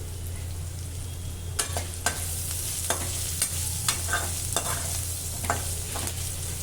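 Cauliflower pieces with turmeric fry in a pan under a steady sizzle, with repeated spatula scrapes and stirs at an uneven rhythm over a low constant hum.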